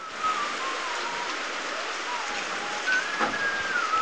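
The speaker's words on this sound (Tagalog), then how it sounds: "Ito yung update natin in this morning. Maulan." Steady morning rain in a rural province, falling as a dense, even hiss with a faint tone drifting over it and no pauses.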